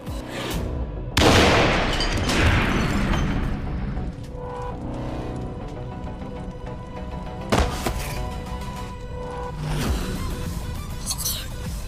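A car bomb explodes in a dramatized audio story, a loud sudden blast followed by rumbling debris and a second heavy boom, with brief voices in the mix.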